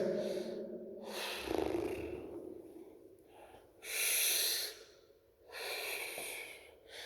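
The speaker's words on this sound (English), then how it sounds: "Take 3 big breaths" Deep breaths taken in and out during a cardiovascular workout routine, with several broad airy inhale and exhale bursts in sequence, close and fairly loud with quieter gaps between them.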